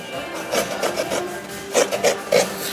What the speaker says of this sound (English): You turn the coconut as you grate to make sure you get an even grate.